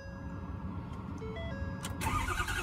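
A truck engine cranks with a whirring starter and a tonal chime, then catches and settles into a steady idle at close range.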